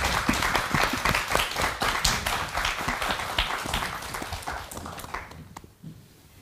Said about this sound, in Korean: 자, 또 큰 박수로 청해 듣죠.